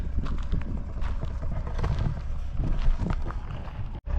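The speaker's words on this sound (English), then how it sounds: "Wild sheep on the side of the highway." Wild sheep hooves clatter beside the Alaska Highway in a quick, uneven patter, close by and mixed with gusting wind noise.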